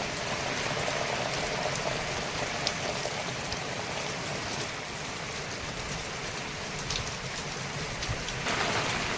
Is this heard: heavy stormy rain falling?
yes